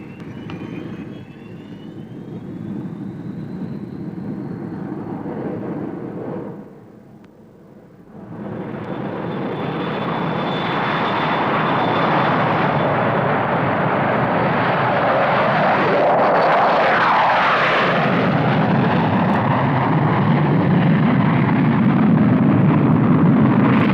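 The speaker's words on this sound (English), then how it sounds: "698, Woodford Tower, cleared for takeoff." An Avro 698 Vulcan jet bomber taking off at Woodford builds from a whining engine roar to a sustained, thunderous blast after a brief dip, growing louder and fuller as it powers down the runway, with no voices.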